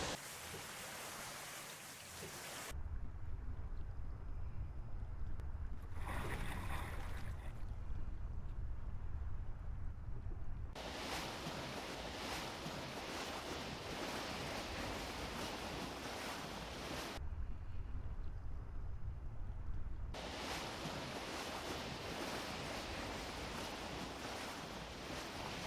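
A sailboat in Second Life moves through the sea: steady rushing waves and wind noise throughout, swelling in louder stretches that alternate with slightly duller passages, with no talk.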